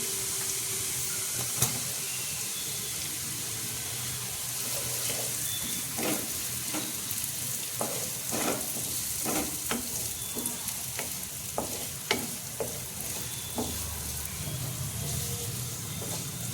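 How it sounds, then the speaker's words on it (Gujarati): Carrot and onion stir-frying in a pan for veg manchurian, a steady close sizzle with repeated scraping and stirring clatters of a spatula throughout, no voices. "ગાજર થોડું સતળાઈ ગયું છે, એમાં આપણે ડુંગળી એડ કરીશું"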